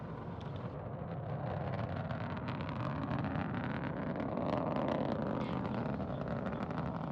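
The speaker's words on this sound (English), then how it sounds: "Liftoff of Progress 83, the next vehicle in the supply chain to the International Space Station" A Progress 83 cargo ship rocket lifts off from Baikonur Cosmodrome, producing a continuous, heavy broadband roar that builds slightly and stays loud and rumbling throughout.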